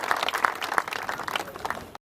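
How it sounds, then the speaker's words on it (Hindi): Villagers clap to welcome a woman politician at an outdoor gathering in India. The applause is uneven and fairly close, with sharp bursts of clapping, and it cuts off abruptly near the end. "जोरदार तालियां बजा करके स्वागत करें बहन जी का।"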